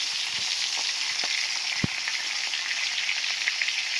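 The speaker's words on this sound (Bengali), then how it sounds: "তেলটা সবসময় গরম করে মাছগুলো কড়াইতে দিলে একটা মাছ কিন্তু ভাঙে না" Continuous hissing sizzle of payra fish frying in hot oil in a kadai, steady and close, with a few small pops and taps.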